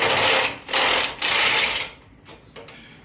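A ratchet with a 24 mm deep well socket working loose a bolt, heard as rapid, buzzing ratchet clicks in three bursts, followed by quieter scattered clicks and small knocks.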